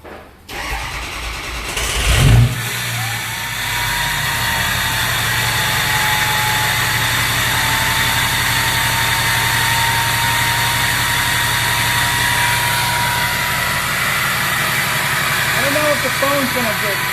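A 6.0L diesel truck engine cranks and fires up with a sharp thump, then settles into a steady rumbling idle with a thin high turbo whistle riding on top for the rest of the time, close and loud.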